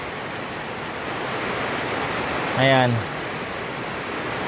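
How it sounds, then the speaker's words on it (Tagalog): Steady hiss of heavy rain pouring down during a pigeon race, with a brief spoken word cutting through near the middle. "Ito kasalukuyang lakas ng ulan."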